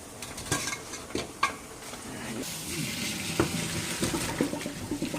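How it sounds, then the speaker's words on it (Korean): Butterbur stems dropped stem-first into a pot of boiling salted water for a brief blanch, with bubbling and sizzling water, splashes and a few knocks of utensils against the pot, nearby and steady throughout. "이제 물이 끓으니까 여기다가 소금을 넣고 이거를 줄기부터 이렇게 넣어"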